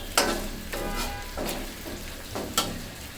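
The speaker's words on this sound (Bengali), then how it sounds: "এখন দিয়ে দিচ্ছি মরিচ 3টা শুকনো মরিচ" Three dried red chillies drop into hot mustard oil in a pan and fry with a loud, steady sizzle, punctuated by a few sharp crackling bursts as they are stirred.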